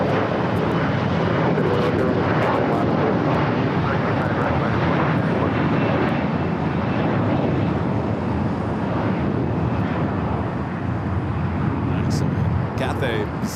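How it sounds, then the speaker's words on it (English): A Cathay Pacific Boeing 777 jet taxis at LAX toward runway 24 left, its engines giving a steady, broad roar that holds for the whole stretch, with voices talking over it. "Cathay Pacific, the 777 heading back to Hong Kong, heading up to 24 left"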